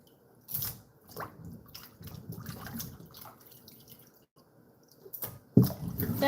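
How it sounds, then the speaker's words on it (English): Water running and splashing as salt is rinsed off meat, with irregular wet bursts and drips, brief quiet gaps, and a louder gush near the end. "let's rinse out the salt from the meat too"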